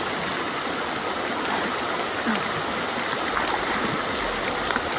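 A raging flooded stream roars in a continuous, dense rush of water, loud and close with no pauses throughout.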